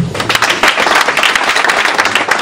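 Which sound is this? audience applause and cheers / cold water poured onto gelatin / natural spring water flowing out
audience applause and cheers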